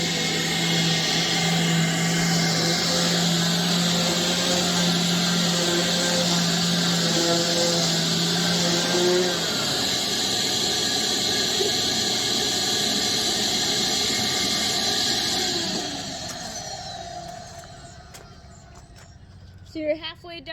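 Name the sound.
sanding a boat surface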